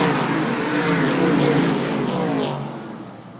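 Race cars roar around a super short oval track in a dense pack, engines droning loud and close before the noise recedes as the field moves away.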